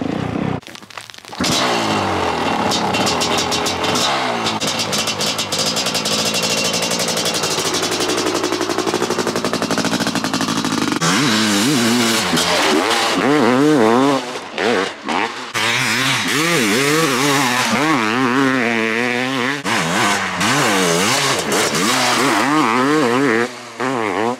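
A Honda CR500 two-stroke dirt bike engine revs hard on a broken-through track section, a loud close crackling roar that rises and falls in repeated throttle surges, with brief drops between pulls.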